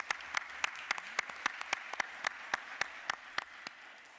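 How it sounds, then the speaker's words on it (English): A small room at a county board of commissioners session gives a round of applause, a sparse handful of distinct, evenly spaced claps carrying on for several seconds. "Give them another round of applause."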